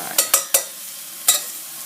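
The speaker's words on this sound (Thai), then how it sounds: "แล้วก็ อันนี้ร้อนแล้วนะ ใส่กระเทียมไป" Garlic dropped into a hot pan for a clean chicken rice porridge, giving a few short sharp sizzling bursts, three in quick succession and one more a moment later, over a faint steady hiss.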